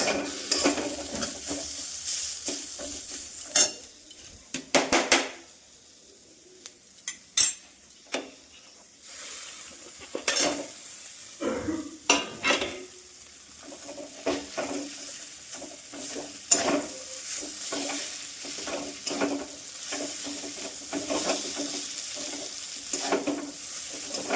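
Food frying in a pan at home while a utensil stirs and scrapes it, with soft sizzling beneath irregular metallic clinks and knocks of spoon against pan, close and fairly loud, no talking.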